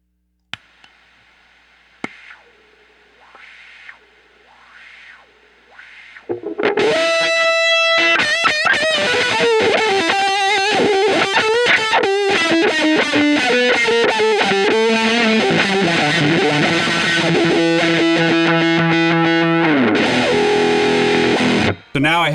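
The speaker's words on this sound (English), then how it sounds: "you can tune it to make your fuzz sound the best with your wah" An electric guitar runs through wah and fuzz pedals with a buffer: a few quiet, sweeping wah notes, then a loud, thick fuzzed riff with swelling wah sweeps that sustains to the end.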